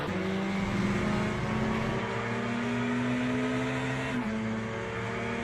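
A Ferrari and a Corvette GTE race car battle at Monza in Le Mans Ultimate, their engines droning steadily and loudly as one climbs in pitch and shifts, with no talking over it.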